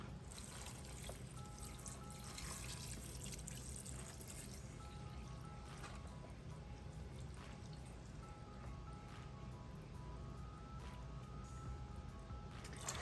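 Faint, steady trickle and patter of water pouring into a pressure cooker pot, continuous for several seconds with a few brighter drips, no talking.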